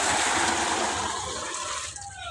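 Water splashes and pours steadily from a dipper, close by, fading near the end.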